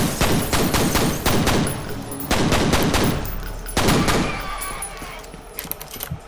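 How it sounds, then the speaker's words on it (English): Dual pistols firing in the F.E.A.R. video game: rapid, loud back-to-back shots in quick volleys, with a short pause, another burst, then fading echoes and a few sparse clicks. "Now I got dual pistols."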